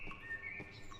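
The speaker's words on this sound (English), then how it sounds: "Oh, I can hear the birds chirping in the morning." Quiet morning birds in Cry of Fear chirp in short, high tweets over a soft, steady ambient bed, with the calls heard faint and at a distance.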